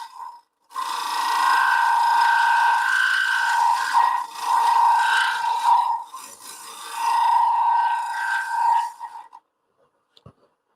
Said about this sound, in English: I'll take the negative rake scraper or shear scraper and just clean this up